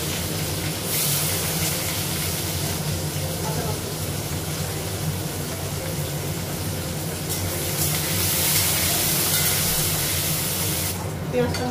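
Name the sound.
onions frying in a pan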